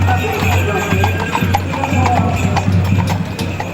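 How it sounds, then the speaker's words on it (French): Trait du Nord and Boulonnais draft horses clop along a paved road at a town festival parade, steady overlapping hoofbeats close by, with crowd voices and talk underneath. "chacun de leurs pas claquant la chaussée"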